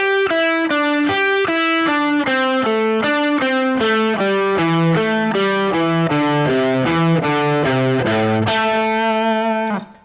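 Distorted electric guitar plays a slow, descending pentatonic lick in groups of four notes returning to the root, each note crisp and evenly spaced, loud and alone before a final sustained note.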